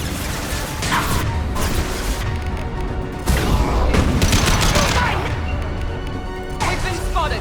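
Bursts of gunfire crack through a Mass Effect 2 firefight with mechanical clanks and impacts, loud and close, the heaviest volley arriving in the middle of the passage.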